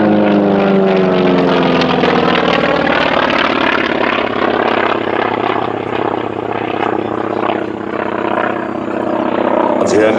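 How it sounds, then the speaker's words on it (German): Aircraft powered by a Curtiss-Wright nine-cylinder radial engine of 1400 horsepower, in an olive drab navy scheme, passing at the ILA Berlin airshow with a loud continuous rumbling drone, as an announcer talks over it throughout. "ein Curtiss-Wright 9-Zylinder Sternmotor, der 1400 PS liefert"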